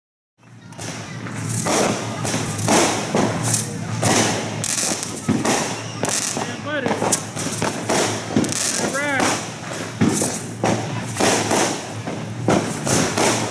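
Fireworks and firecrackers going off at a neighborhood Independence Day celebration on 7th Avenue, with steady crackling bursts and repeated thumps throughout, whistling rockets rising midway, and crowd voices talking underneath.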